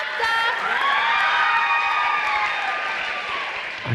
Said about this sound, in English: Amp it up, keep that applause going for Bilal